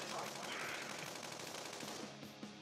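Rapid, continuous automatic gunfire in Persona 5 Royal with a dense, crackling texture, steady and loud throughout, like a game's weapons firing nonstop.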